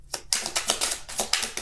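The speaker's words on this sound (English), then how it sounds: "I'm going to keep shuffling." Tarot cards being shuffled in rapid, irregular bursts of crisp papery riffles and taps, close up and fairly quiet, with no voices.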